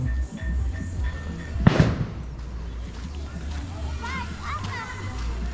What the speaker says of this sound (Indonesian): Meriam bambu.